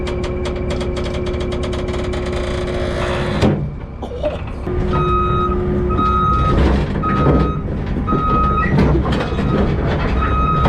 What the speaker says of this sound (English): We have to back the skid steer